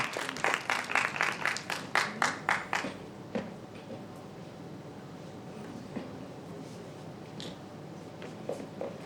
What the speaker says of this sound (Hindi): एक बार उनके लिए जोरदार तालियां हो जाएगी।